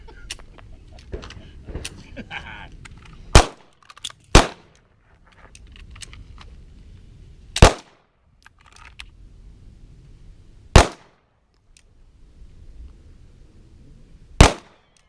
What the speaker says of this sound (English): Low ready, aim, and fire 5 consecutive shots into dot number 8.